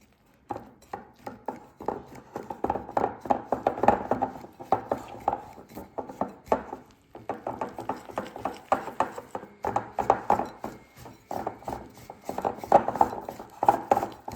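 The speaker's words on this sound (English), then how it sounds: "Use the same sourdough whisk and incorporate those ingredients." A sourdough whisk works flour into a wet dough in a bowl, a rhythmic series of scraping, knocking strokes that come in bursts with short pauses between them.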